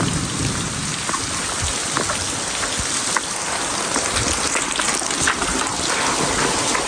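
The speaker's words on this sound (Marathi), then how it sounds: "पहिला पाऊस" The first monsoon rain pours steadily in a village, a dense, loud, continuous hiss of drops striking surfaces with no pauses, and a low rumble running underneath.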